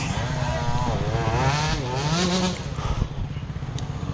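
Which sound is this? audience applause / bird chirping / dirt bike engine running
dirt bike engine running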